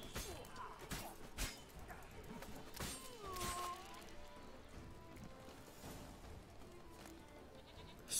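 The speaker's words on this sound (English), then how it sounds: "There's a lot of goats." Goats bleat in the Witcher 3 video game, several wavering calls at different distances scattered over faint game ambience, with a few soft clatters and thuds.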